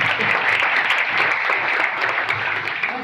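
Steady audience applause at a gathering where people share their experiences, dense clapping holding evenly throughout at close range with no talk over it.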